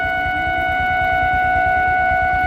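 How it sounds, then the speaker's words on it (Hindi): A loud, sustained dam water-release warning siren in Srinagar, Uttarakhand, wails on steady tones over a low pulsing rumble, continuous and unwavering. "दोस्तों ये सायरन बज रहा है डैम की तरफ से।"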